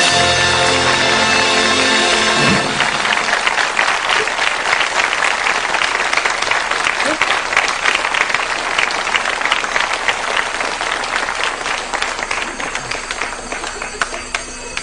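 After a brief musical tone at the start, a large audience at a 1973 German song-contest preselection breaks into loud, continuous applause, a dense clatter of many hands that carries on steadily and thins slightly toward the end.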